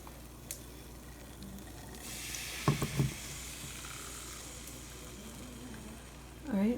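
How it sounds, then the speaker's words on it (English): Baby artichokes sauté in a pan with a soft, steady sizzle, broken midway by a few quick utensil clinks and a brief stir near the end. "we're going to let these kind of saute until they're brown, a little bit just caramelized"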